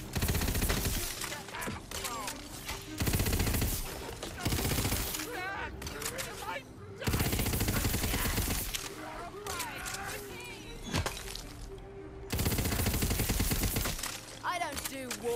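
Gunfire in the video game Tiny Tina's Wonderlands, loud bursts of rapid automatic shots and blasts in several long volleys, with voices talking between and under the fire.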